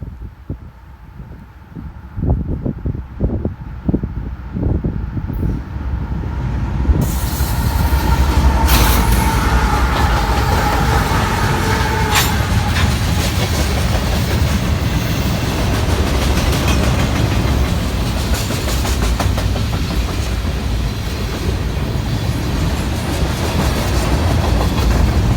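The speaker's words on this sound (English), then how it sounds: "first train was a very large mixed freight" A very large mixed freight train led by ES44AC locomotives rolls past, rising from a quieter start into a loud, sustained rumble of wheels and clattering cars that continues steadily and close.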